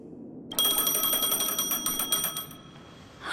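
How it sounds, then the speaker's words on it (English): Phone ringing in the Honkai: Star Rail video game: a bright electronic ring that starts abruptly, trills steadily for about two seconds and then stops, heard on its own. "A phone."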